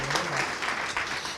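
Brief burst of audience applause after a talk at a Spanish-language lecture on administrative jurisdiction, a dense, even clatter of many hands filling the hall at moderate loudness.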